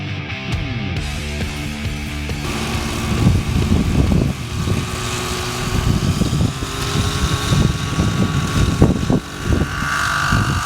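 An OS 105HZ R model helicopter engine, set up rich while bedding in, runs continuously with a rough, buzzing drone and fluctuating revs, loud and close throughout with no talk.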